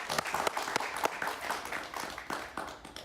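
A studio audience at an interview show applauds a guest with a brief, lively burst of many hands clapping. A few louder individual claps stand out from the crowd, and the noise eases slightly before the end.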